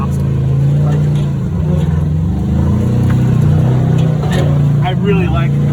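Kawasaki KRX 1000 engine rock crawling through a canyon near Reno, a loud low drone that rises and falls under steady talking.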